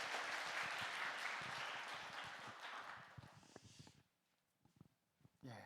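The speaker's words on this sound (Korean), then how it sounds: "박수하겠습니다" A church congregation at a Korean Sunday worship service claps together in a dense, sustained burst that fades out after about four seconds, leaving a few scattered claps and quiet room noise.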